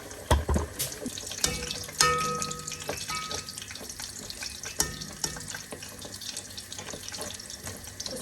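Unleavened shelpek flatbreads fry in a pan of hot oil, giving a steady, close sizzle broken by occasional knocks and clatters as the dough is pressed and turned.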